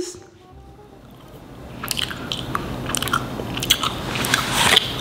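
Close-up crunchy bites and wet chewing of a cannabis edible, growing louder and more frequent as the mouthful is worked.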